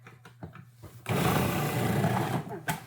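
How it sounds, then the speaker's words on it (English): A food processor starts up about a second in and shreds potatoes fed down its chute, making a steady, loud, close motor whir and grinding roar that dips briefly near the end, with faint talking before it starts. "I'm going to open up the chute of my food processor, hit it to on, and start shoving my potatoes in there."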